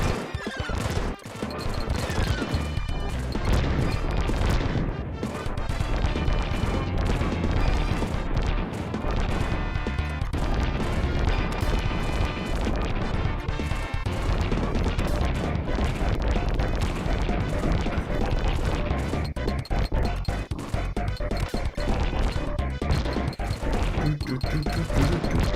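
Explosions in a retro SNES video game keep booming and crashing continuously, loud and dense, layered over constant game music and effects, with a faint voice now and then.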